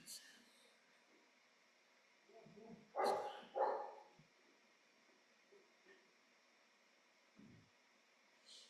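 Indoor dogs give a couple of sharp barks in quick succession around the middle, with fainter yips and thumps before and after against a quiet room-tone background.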